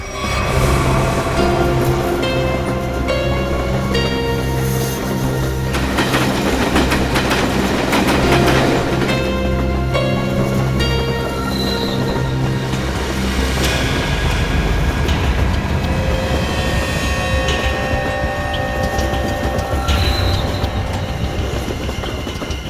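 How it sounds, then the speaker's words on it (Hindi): A moving train rumbles loudly and steadily throughout, its rail carriage rattling with rhythmic clickety-clack wheel noise and occasional brighter metallic squeals over a continuous low roar. "हाँ मैं भी इसी ट्रेन में हूँ।"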